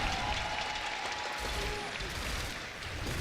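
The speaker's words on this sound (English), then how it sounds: "Let's get one more cheer for them" Crowd at an esports finals match applauding and cheering for team Miracle, a dense, fairly loud wash of clapping that fills the short stretch and eases slightly near the end.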